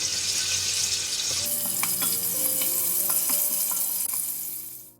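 Chopped garlic frying in three to four tablespoons of hot oil in a pot gives a loud, steady sizzle throughout, with a series of light scraping and stirring clicks, fading out at the end.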